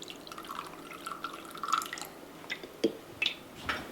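About two tablespoons of water go into a beef and broccoli sauce mixture with pepper and sugar, heard as a few quiet drips and small splashes, soft and close, with brief gaps between them.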